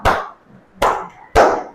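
Three sharp hand claps, evenly spaced about two-thirds of a second apart, loud and close with no talking.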